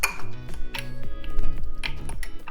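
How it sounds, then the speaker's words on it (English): Tuna-salad-style food being mashed in a bowl, heard as rhythmic scraping and clinking of a utensil against the dish, repeated strokes at a steady pace with no talking. "Now all I do is just mash it up."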